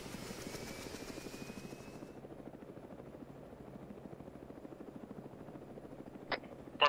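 A Mi-24 helicopter in a zombie-event video game, a steady rhythmic rotor thump close by and continuous, with a faint whine fading early and a couple of sharp clicks near the end.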